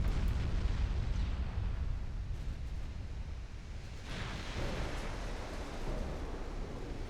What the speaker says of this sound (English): we are scoring a lot of torpedo hits on these cruisers